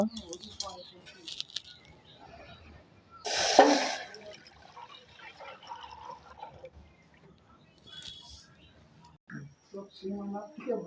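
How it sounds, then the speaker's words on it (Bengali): Milk poured into a pan for masala tea, a brief gushing pour in the middle of the clip, set among quiet kitchen clatter with a person talking around it. "প্রথমে চাটা বানানোর জন্য দুধটা ঢেলে নেব।"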